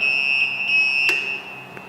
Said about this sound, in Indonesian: ketika ini terjadi alarm, maka adalah untuk mematikannya adalah tombol kuning di belakangnya